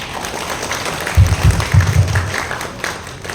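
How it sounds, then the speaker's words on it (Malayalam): A brief burst of audience applause at a family get-together rises and fades over about a second, with a murmur of room noise around it. "കൈയടിക്കോട്ടെ."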